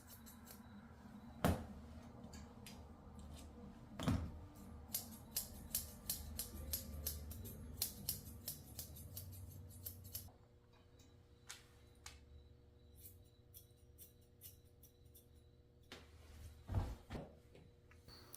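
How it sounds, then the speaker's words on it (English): Curved grooming scissors snip at a Yorkie's fur in quick, light, crisp clicks, sometimes in rapid runs and sometimes spaced out, close and quiet, with a few louder handling bumps. "I'm using my curved scissors to trim up her eyes"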